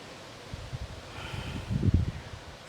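Gusty outdoor wind buffets the microphone in low, uneven rumbling surges during a yoga flow, swelling strongest near the end, with no talking.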